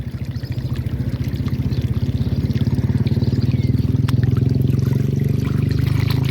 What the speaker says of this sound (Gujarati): પાણી ચાલુ છે એટલે ખામણો ફૂલ થઈ જાય